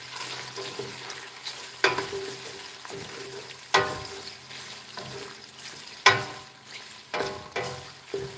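Bacon sizzles in a frying pan, a steady crackling hiss broken by several sharp clanks and scrapes of stirring or flipping, heard up close with no talking.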